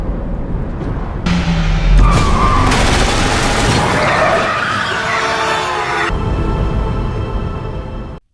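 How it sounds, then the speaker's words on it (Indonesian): A car skids hard on the road while under gangster gunfire, a loud sustained tire screech with engine roar and bursts of impacts, close and alone without talk. "tiba-tiba mobil mereka ditembaki oleh para anggota gangster"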